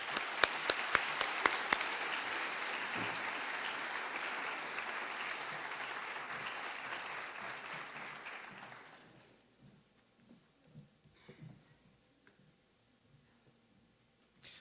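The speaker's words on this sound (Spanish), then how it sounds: "Recibamos con un fuerte aplauso" An audience at a formal talk on the MACCIH in Honduras breaks into loud applause to welcome a speaker, holding steady for about nine seconds before fading out, with faint scattered sounds after.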